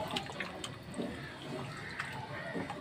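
Water poured into a pot of cooking meat with taro for gravy, a steady splashing pour running throughout, fairly loud and close.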